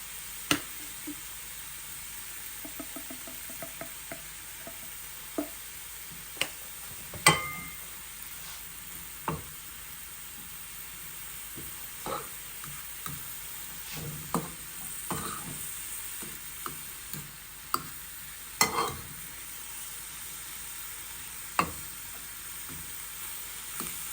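Empanada filling seasoned with turmeric and paprika sizzles steadily in a pan, a continuous close frying hiss broken by frequent sharp clicks and taps of stirring, with no talking.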